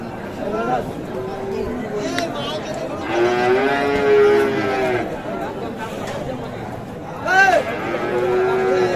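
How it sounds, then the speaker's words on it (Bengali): Sahiwal cattle moo loudly and close by at the Ambari cattle market, several long lowing calls rising over a busy crowd murmuring and chattering around them. "আজকে আমরা এখানে দেখছি আরেকটি গরু"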